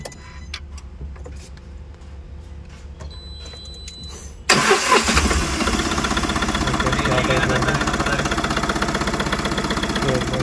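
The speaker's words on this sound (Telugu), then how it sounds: "ఓకే, బండి స్టార్ట్ చేద్దాం." A Tata Ace Gold BS6 diesel mini truck engine cranks and catches at about four and a half seconds, then settles into a loud, steady, slightly knocking idle up close. Before the start, only faint ticks and quiet background sound are heard.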